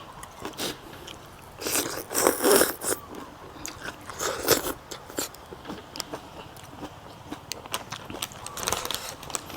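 Crunchy bites and chewing of a spicy Thai squid noodle salad with tentacles, close up, in several bursts with some louder crunches near the start.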